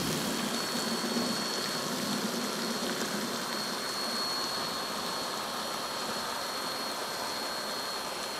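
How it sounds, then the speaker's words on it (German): A Milwaukee/DeWalt multifunction pump runs steadily while emptying a 90-litre water container, a constant loud motor whine with rushing water noise, close and unbroken, with no talk. "wie viel hier durchgeht, welcher Druck hier durchgeht und wie schnell wir das leer pumpen"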